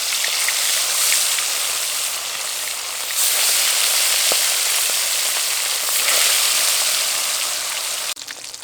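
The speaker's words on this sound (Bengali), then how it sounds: "এবার বাকি মাছগুলো ভেজে নেব।" Bata fish frying in hot oil gives a loud, steady, close crackling sizzle like heavy rain, continuous throughout with a faint clink and a brief shift near the end.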